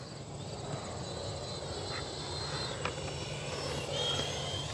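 A 50mm electric ducted fan RC jet, the Arrows Avanti S on 4S power, flies at part throttle. Its steady whining hiss holds through the whole stretch with slight pitch shifts, heard from a moderate distance and without voices.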